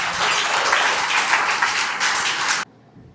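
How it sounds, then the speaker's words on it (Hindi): Applause for a retiring teacher at a school farewell program, a crowd clapping loudly and steadily for several seconds before it cuts off abruptly near the end. "जोरदार तालियां सर के लिए"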